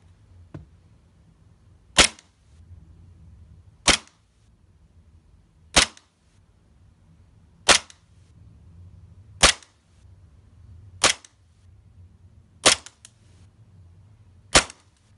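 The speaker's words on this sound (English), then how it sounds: "Another WeTech GLOCK, the GLOCK 18C, semi-automatic for this test." A WE-Tech Glock 18C airsoft pistol running on green gas fires eight sharp, evenly spaced semi-automatic shots about two seconds apart, each a loud crisp crack over a faint low hum, with no talking.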